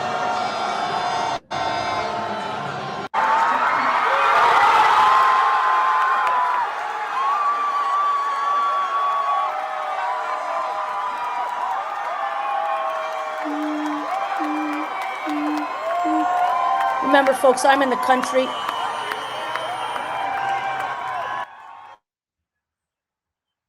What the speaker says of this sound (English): That's the Iranians in diaspora cheering for New Zealand scoring.